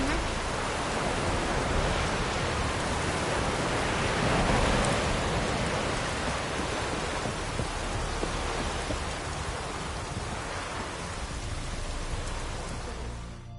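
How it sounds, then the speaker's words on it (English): Steady, dense rain in the video game The Witcher 3 hisses evenly throughout with no clear breaks, a constant wash of noise that swells slightly midway. "It's raining."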